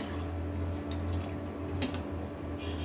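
Water is poured into a pan of fried tomatoes for a tomato curry, a steady close trickling and splashing with no voices.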